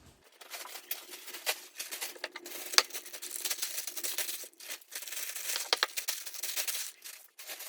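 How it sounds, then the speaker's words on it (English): Plastic bags crinkling and rustling as sourdough loaves are bagged, close crackly bursts that come and go in irregular bunches. "Now I put them in some plastic bags."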